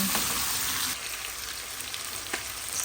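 Chicken and cabbage with sliced tomato sauté in a hot pan, a dense steady frying hiss with faint pops of spattering and a couple of soft stirring scrapes, close and without speech.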